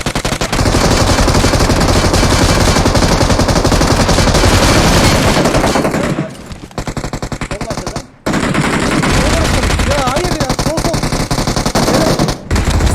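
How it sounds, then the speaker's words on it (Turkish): Sustained automatic gunfire from PUBG Mobile hammers a wall in long, dense bursts, loud and close, broken by a couple of brief pauses before resuming. "Oğlum adam duvarıma sıkıyor."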